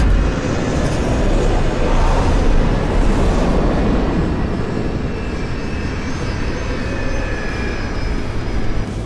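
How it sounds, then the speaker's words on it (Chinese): A cargo airplane lands at an airport as it is about to close because of a typhoon, its loud, steady engine roar close by and unbroken throughout, with no talk. "我们赶在了机场关闭前最后1分钟降落。"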